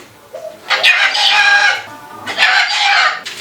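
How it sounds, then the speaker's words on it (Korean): A pet parrot used in a touring magic show gives two loud, bursting squawks with harsh harmonic calls, one spanning about a second and another after a short pause, heard close and alone. "앵무새 한 마리가 있습니다."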